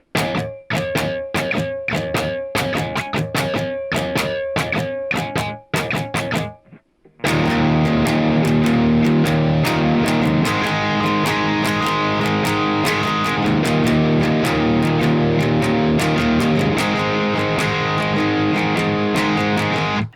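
Electric guitar plays the rhythm part of a song in a down-up strumming pattern, loud and steady with a brief pause near the middle before fuller, continuous chords resume alone.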